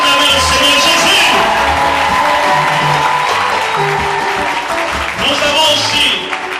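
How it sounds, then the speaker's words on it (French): A church congregation breaks into loud, sustained applause and cheering for Jesus, clapping filling the room continuously with voices rising over it. "Est-ce qu'on peut acclamer le Seigneur Jésus?"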